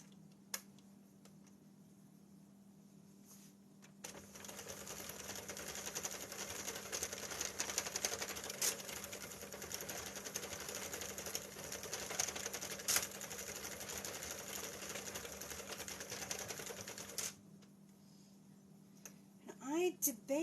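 Sentro knitting machine being cranked while a hat is knitted, a steady rapid clicking and whirring that starts after a few seconds, runs for about thirteen seconds close by, then stops.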